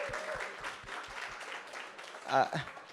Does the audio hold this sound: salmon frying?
no